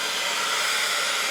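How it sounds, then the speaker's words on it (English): A hair dryer blows at full power in a camper trailer, a loud, steady high-pitched whirring rush of air up close. "Finally get to use a hairdryer at full power."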